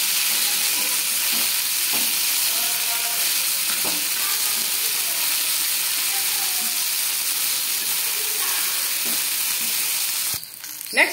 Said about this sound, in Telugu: నెక్స్ట్ ఇందులో కొత్తిమీర అయితే యాడ్ చేసుకోవాలి. యాడ్ చేసుకొని దీన్ని కూడా బాగా ఫ్రై చేసుకోవాలి